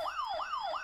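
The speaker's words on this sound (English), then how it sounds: "Maybe a siren to warn." Sound-effect siren from a LEGO Haunted House set, a loud wailing tone that sweeps up and slowly falls in repeated cycles, about three rises in under a second, with no talk.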